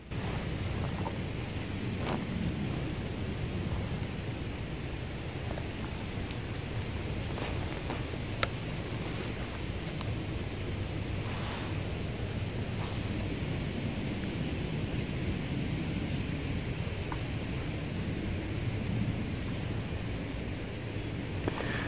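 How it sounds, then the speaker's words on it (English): Steady wind blows outdoors during a ride on a Rad Mini electric bike, a continuous broad rushing and buffeting that fills the whole stretch with no voices. "don't know if you can hear the wind blowing."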